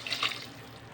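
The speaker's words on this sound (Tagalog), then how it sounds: "Lagyan ko pala muna ng tubig para" Water runs from a tap into a cooking pot for batchoy, a short close splash of filling water with no talk.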